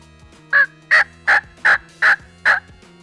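Six evenly spaced, sharp yelps from a turkey call, a voice imitating a hen's plain yelp in a steady rhythm.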